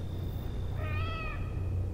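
A cat in a S.T.A.L.K.E.R. Shadow of Chernobyl play session gives a single drawn-out meow over a low background hum, fairly faint and alone.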